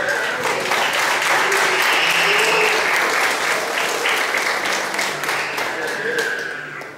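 A church congregation applauding during an evening service, sustained clapping from many hands with a preacher's voice and cheers riding over it, tapering slightly near the end.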